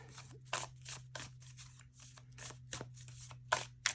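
Tarot cards being shuffled and drawn by hand: a steady series of crisp, papery riffling bursts and flicks, close and fairly quiet, with a low steady hum underneath and no talking.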